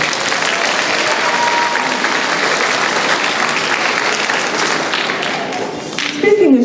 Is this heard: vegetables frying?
no